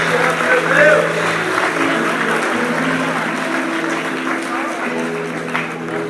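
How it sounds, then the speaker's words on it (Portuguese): A church congregation claps in praise during worship, a broad, continuous wash of hands over a sustained musical backdrop, loud and close throughout. "Aplauda o Senhor."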